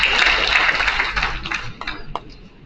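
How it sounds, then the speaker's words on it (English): An audience at a national seminar on sheep and goat research applauds an award recipient, dense clapping that starts loud and thins out into scattered claps. "Please give a big round of applause."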